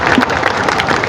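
A crowd at a Jan Suraaj Party rally in Patna claps to welcome Manoj Bharti, a brief, dense burst of steady applause close by.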